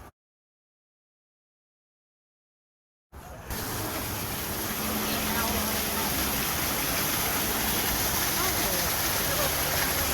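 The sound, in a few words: waterfall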